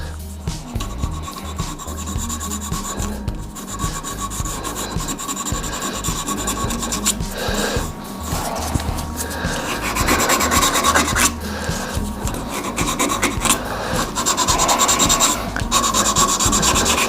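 A wooden shaving brush spinning on a lathe while 320-grit sandpaper rubs against it, producing a continuous close raspy scratching with a low rhythmic rumble underneath and no talk.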